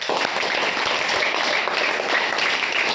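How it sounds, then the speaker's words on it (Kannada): Audience applause at the close of a school program, a dense, continuous patter of many hands clapping together at steady loudness throughout. "ಎಲ್ಲರೂ ಚಪ್ಪಾಳೆ ಹಾಕಿ"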